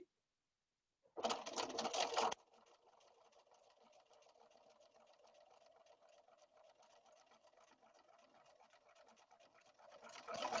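A sewing machine runs a quilt block seam, fed through over fork pins: a loud, close burst of fast stitching, then a quieter, steady whirring run that builds again at the end.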